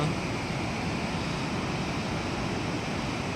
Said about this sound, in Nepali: कर्णाली तिला कर्णाली बगिरहेको छ तल छङछङ गर्दै, कति सुन्दर छ